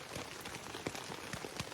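Rain pattering on a shelter in the woods: dense, soft, steady drumming of drops with scattered louder taps, faint and close, with no talk.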